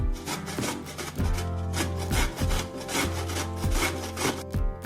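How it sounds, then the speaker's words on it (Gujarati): Raw papaya is grated for Gujarati sambharo, a steady rhythmic scraping of firm fruit against a metal grater, each stroke rasping loudly and close, repeated about every half second with no talk. "પપૈયાનું ચૂરણ થઈ ગયું છે"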